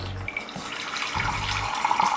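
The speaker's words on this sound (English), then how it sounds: "you're going to take your bowl and you're going to heat it up a little bit with your water source" Hot water pours into a matcha bowl to warm it, a close, continuous splashing rush with a gurgling fill lasting a couple of seconds.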